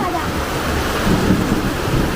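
A heavy rainstorm in Kerala with a low rumble of thunder rolling beneath the steady hiss of rain, fairly loud and close, and no voices.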